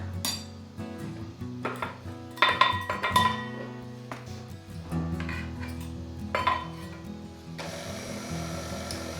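Flour being mixed into pumpkin cookie dough in a bowl, a mixer whirring and clinking against the sides with uneven rattling bursts, then a brighter steady hiss toward the end.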